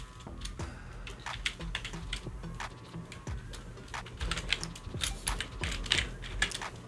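Fingers type on a computer keyboard in quick, uneven bursts of close, crisp key clicks while editing a LinkedIn profile URL, with short pauses between runs and no voices.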